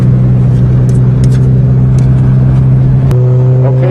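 Toyota GTS engine idling with a steady low drone, then shifting pitch as gears are tried around the three-second mark, rising slightly in a brief rev; close and loud, with no talk.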